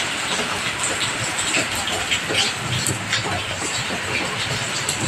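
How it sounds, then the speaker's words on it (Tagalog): Heavy rain in Cavite falls as a steady, dense hiss, loud and close, with continuous patter and no voices. "Pero medyo tumila-tila naman naulan pa rin, pero hindi na ganun kalakas."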